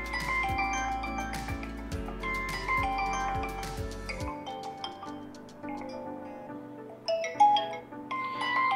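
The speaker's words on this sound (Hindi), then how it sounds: "तो हमारे पास रिंग टोन है जी" A Vivo Y30 phone plays its ringtone, a bright melodic electronic tune over a thumping beat that drops out halfway, leaving lighter chiming notes, loud and close.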